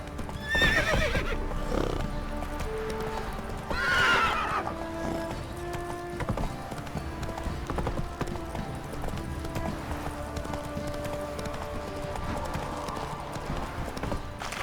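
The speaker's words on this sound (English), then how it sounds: "Time to water the horses." Horses whinny twice in quick succession over a steady clatter of hooves in the video game The Witcher 3, with a busy, game-like ambient backdrop.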